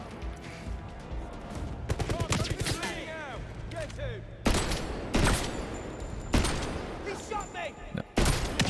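Repeated shotgun blasts in the 007 First Light video game ring out in sharp, loud bursts at irregular intervals, with shorter crackling impacts and some game effects between shots.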